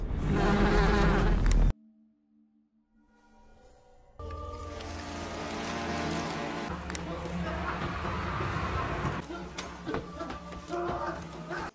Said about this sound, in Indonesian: membuka toples berisi tawon hingga akhirnya pria itu pun tewas karena diserang kawanan tawon tadi